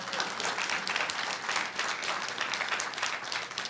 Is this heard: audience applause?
yes